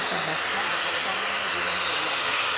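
Etihad jet airliner at Manchester Airport beginning its takeoff roll, a steady broad engine rumble and hiss that builds evenly, with faint talk underneath.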